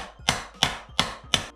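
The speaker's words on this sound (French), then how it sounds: "avec un marteau et une rallonge de gros cliquet, je vais venir taper sur l'axe" Hammer striking a large ratchet extension against the brake caliper pin of a Ducati Monster motorcycle, four evenly spaced, sharp metallic taps at close range.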